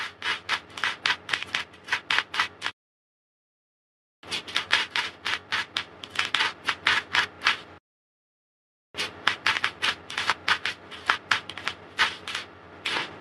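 Oracle cards are shuffled and rubbed together in three long bursts of rapid, dense riffling and sliding, close and fairly loud, separated by brief silences.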